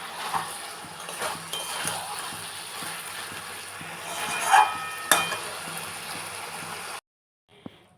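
Dhaniya chicken being sautéed and stirred in a pan with a little hot water added, a continuous sizzle with rhythmic scraping and clattering of a spatula, cutting off abruptly near the end.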